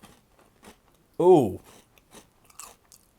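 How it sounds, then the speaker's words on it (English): A hard, crunchy arare rice cracker with a soft inside bitten once, a short crisp crunch close to the mouth, then a few soft chewing clicks, with a brief exclamation from the eater. "this is just another hard, crunchy cracker with a little bit of a soft inside, so let's try it"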